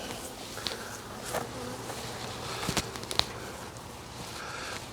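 Bees buzz steadily around a hive during an outdoor cutout, a dense near drone with a few light knocks and shuffling steps mixed in.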